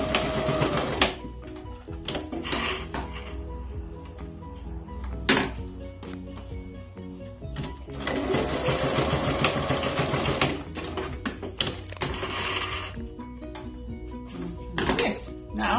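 A sewing machine stitches a fabric face mask, its needle chattering in steady bursts with short pauses between runs while someone talks over the work.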